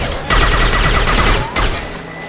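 Sustained gunfire in a Mass Effect 2 video game battle, a loud, dense burst of rapid shots that pauses briefly midway before resuming, with no voices over it.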